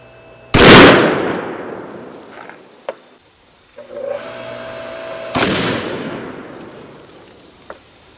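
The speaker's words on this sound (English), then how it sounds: "I refilled the fuse with indium metal to see if anything cooler would happen when it zapped." A 6000 amp fuse refilled with indium metal blows in two sharp, loud bangs several seconds apart, each decaying into a ringing hiss, with smaller clicks and pops between.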